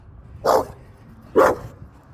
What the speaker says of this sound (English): There's my little dog.